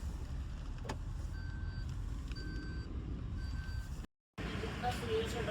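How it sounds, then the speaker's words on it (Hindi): A new car cruises with a steady low road rumble and engine drone from inside the cabin, with repeated soft electronic beeps and a brief dropout near the end. "आज जा रहे हैं हम अपनी नई गाड़ी में, पहली बार बैठी हूँ अपनी नई गाड़ी में आज"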